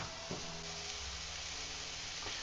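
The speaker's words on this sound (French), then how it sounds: "à partir de ce moment là on va venir ajouter les oignons" Onions frying alongside burger meat on a grill for a homemade hamburger, a steady, even sizzle with faint scraping taps, close and continuous with no talk.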